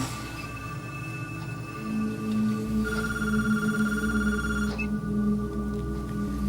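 A telephone rings indoors, layered electronic tones pulsing steadily for a few seconds before cutting off, over a low hum, no voices.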